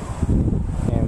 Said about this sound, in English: it's very windy today, so I'm sorry if you hear a lot of wind